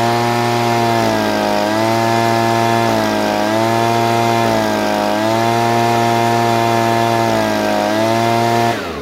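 Stihl leaf blower engine, running after a carburetor fix, revs up and down repeatedly in a loud, close, buzzing whine that climbs cleanly to high RPM several times with no hesitation, alone without talk.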